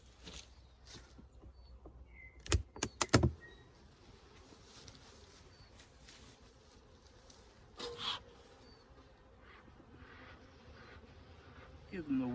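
Honey bees hum and buzz faintly inside a winter hive as it is opened, a low steady drone broken by a few sharp knocks and thuds from the woodwork.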